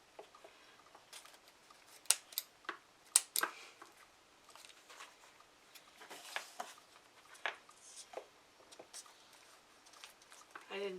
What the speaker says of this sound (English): I didn't bring my good scissors up,